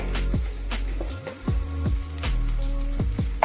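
Okra curry sautéing in a pan after whole fennel seeds are added, giving a steady sizzle with a series of sharp pops and taps from stirring at an uneven rhythm.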